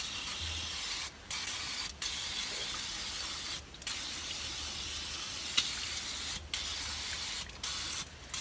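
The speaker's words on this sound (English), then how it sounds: "Now we're just going to spray all around in there to clean it up a little bit." Brake cleaner sprays in long loud hissing bursts into the rear differential of a Jeep Grand Cherokee WK, with several short pauses between blasts, close up and with no talking.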